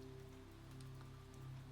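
Steady rain falls at night, a dense even patter with a low rumbling hum underneath, continuous and moderately soft throughout.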